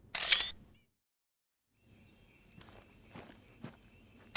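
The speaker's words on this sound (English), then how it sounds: "Do I hear footsteps?" Footsteps on the ground in a hunting video game set in a Mississippi reserve with cotton fields, faint and irregular after a loud camera-shutter burst and a pause, a few soft steps scattered across the quiet.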